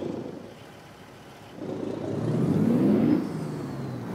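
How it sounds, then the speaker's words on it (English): CAT C15 600-horsepower diesel engine of a truck in American Truck Simulator, a steady low drone that builds and revs up midway, holds loud, then eases back as the pitch drops, with no voices. "the truck's running a CAT C15, 600 horsepower, with an 18-speed 8-foot transmission"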